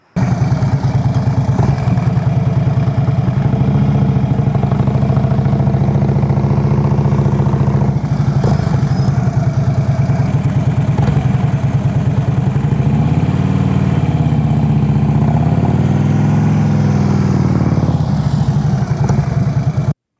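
A motorcycle engine running steadily and loud up close throughout a slow U-turn from stop exercise, its low throb rising and falling gently as the rider works the throttle.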